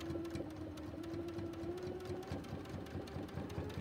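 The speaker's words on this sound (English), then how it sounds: "I'm going to sew straight down the middle" A sewing machine stitches a straight seam through fabric with a short stitch length, a steady close mechanical whirr running continuously, with no talking.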